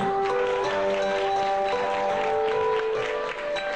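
Steady clapping from a crowd fills the room, with sustained musical tones ringing underneath throughout.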